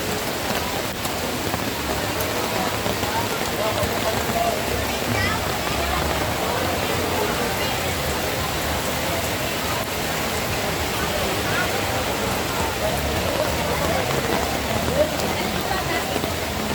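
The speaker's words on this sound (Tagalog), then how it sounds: "Para makita ninyo kung paano bumabagsak yung tubig dito sa Estrella Falls." Estrella Falls waterfall in Narra, Palawan pours down in a steady, dense roar that fills the whole stretch, with people talking faintly underneath.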